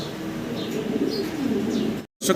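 Fancy pigeons cooing at a pigeon seller's place, a soft, steady low coo over a constant background hum, close by, with a brief dropout near the end.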